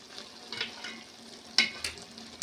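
Gooseberry pickle bubbles and fries in sesame oil in a pan, a close crackling sizzle with a few sharper spits breaking through.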